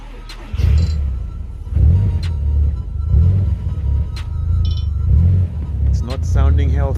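An Audi S3 8L engine starts and then idles as a steady low rumble with rising and falling surges. A person talks over it near the end.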